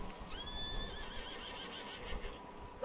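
A horse whinnies in the Red Dead Redemption 2 western video game, one clear, fairly faint neigh with a wavering pitch over quiet ambient game sound.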